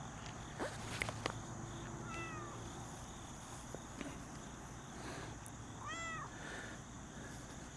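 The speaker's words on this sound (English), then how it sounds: "There's a cat in this bush." A cat meows a few times at moderate distance from a bush on a homestead, short rising-falling cries over a steady outdoor background hum.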